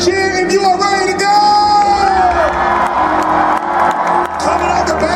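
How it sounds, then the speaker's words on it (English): A convention panel audience claps, cheers and whoops loudly and continuously, a dense crowd roar with shouts rising over the applause. "Clap and cheer if you are ready to go."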